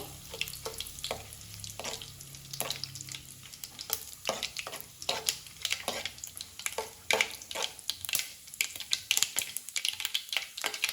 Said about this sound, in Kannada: ಕೆಂಪು ಮೆಣಸಿನಕಾಯಿ ಒಂದೆರಡು ನಾಲ್ಕು ಕರಿಬೇವಿನ ಹೆಸರುಗಳನ್ನು ಹಾಕ್ಕೊಳ್ತೇನೆ ಈಗ ಇದನ್ನು ಫ್ರೈ ಮಾಡ್ಕೊಳ್ಬೇಕು